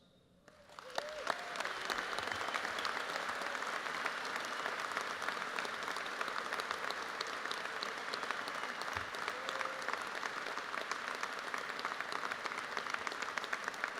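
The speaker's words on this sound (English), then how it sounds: "I want him to see the video of you guys giving him a round of applause." An audience gives a round of applause at a public event with a congressman, a dense, sustained burst of clapping from many hands that starts abruptly and holds steady for over ten seconds, moderately distant.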